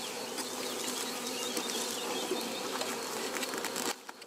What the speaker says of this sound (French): ASMR des abeilles.